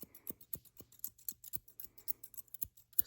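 Scissors snip hair on top of the head during a close-up haircut, giving a quick, crisp run of rhythmic snips that repeat for several seconds against quiet.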